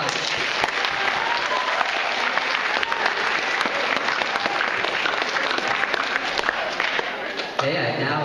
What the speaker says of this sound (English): Have a round of applause.